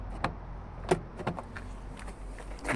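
The door lever and latch on a Renault Dauphine are worked by hand, giving a few sharp metallic clicks and clunks, close up and spaced unevenly over a quiet background.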